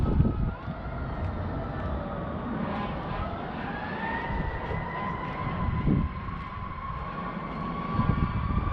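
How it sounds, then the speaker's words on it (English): Distant emergency vehicle sirens wail in slow rising and falling tones near a cemetery, faint and steady under wind and outdoor rumble. "I'm hearing a lot of sirens"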